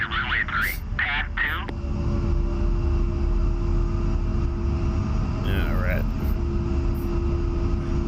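Steady loud engine drone of an A-10A jet taxiing toward the runway in the DCS flight simulator, a constant low roar with a high whine, while radio chatter and talk pass over it.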